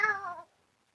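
A phone ringtone of a cat meowing plays a single short, clear meow that falls in pitch and fades within half a second.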